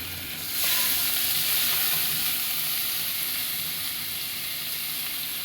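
Spice paste with a little sugar and turmeric fries in a pan, a soft hiss swelling into a steady, moderately loud sizzle that carries on evenly without speech.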